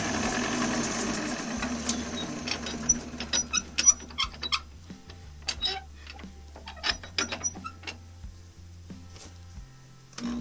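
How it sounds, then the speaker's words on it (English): Wood lathe running during woodturning: a low steady motor hum underneath a series of sharp clicks and tool chatter bursts against the spinning workpiece, close and uneven, no voices. "Slow the lathe down."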